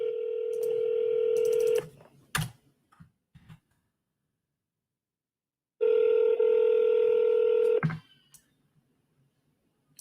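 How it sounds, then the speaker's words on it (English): During a phone call, a telephone line plays two long steady tone sequences separated by silence, each followed by short clicks, close and clear with no talking over them. "So let's see if this person picks up the phone."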